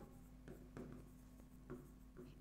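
Notes being written on a board during a biology lesson on mutualism, a faint series of short scratchy marker or chalk strokes in small bursts against a quiet room hum, no talking.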